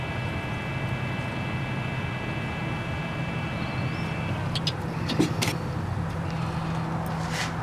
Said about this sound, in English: You can hear the motor is blowing.